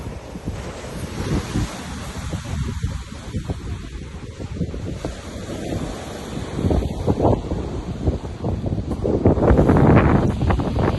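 Continuous surf and large crashing ocean waves while out fishing, mixed with heavy wind noise, steady and fairly loud, building louder toward the end; no talking.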